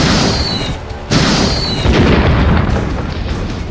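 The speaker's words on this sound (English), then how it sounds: "Eat rocket, Bug!" A rocket strike explosion in a stop-motion Transformers battle against Titan Scorponok: loud booming blasts with a sharp whistling streak, then a sustained rumbling roar filling the rest of the moment, with no talk.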